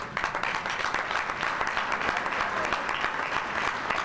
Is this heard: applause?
yes